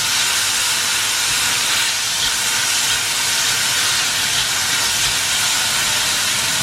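Frozen green peas sizzle in a pan with cooked onions, a dense, continuous hiss of steam and frying that stays close and loud throughout.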